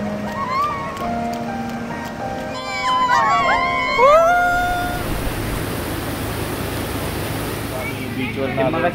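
Rain falls over a calm seaside beach on the Konkan coast, a steady broad hiss mixed with distant surf, preceded by a few high whistling tones before the rain noise takes over.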